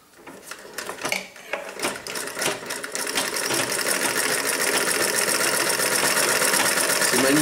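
A restored Singer 28K sewing machine, its original leather belt replaced, whirring steadily and close up; after a few uneven starts and stops the mechanical chatter settles into a continuous, even run.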